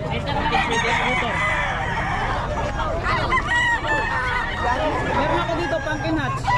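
Chickens and roosters at a poultry spot in Bocaue crow and cluck repeatedly at close range, with overlapping calls and people chattering in the background.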